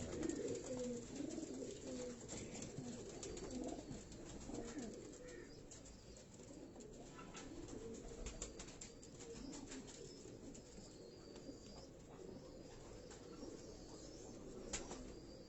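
A Karachi fancier's show pigeon gives soft repeated coos, with brief wing flaps and faint background noise, fairly quiet throughout.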